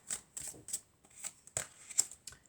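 Tarot cards shuffled and drawn during a card reading, a series of crisp riffling and flicking bursts in an irregular rhythm, close and fairly quiet, with no talking.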